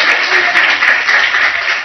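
A church congregation claps loudly together during a Telugu sermon, a dense, continuous wash of applause filling the room at full volume without a break.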